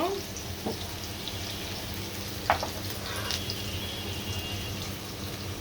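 A spice paste fries in a pan for a koi fish bhuna, making a faint, even sizzle with a couple of brief clicks from stirring.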